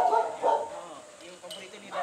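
Dogs bark and yip in a neighborhood where nearly every household keeps guard dogs, a few short bursts mixed with people talking nearby.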